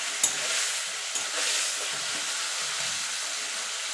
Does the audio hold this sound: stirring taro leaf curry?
yes